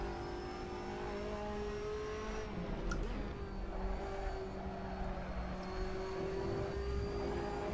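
A racing car engine in the Assetto Corsa sim drones steadily at a fairly constant pitch, with faint shifts as the car runs wide through a corner on the track.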